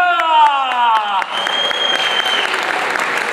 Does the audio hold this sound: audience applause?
yes